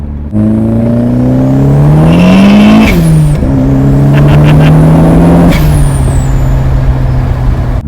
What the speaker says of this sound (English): So, how does the Protege drive on the road?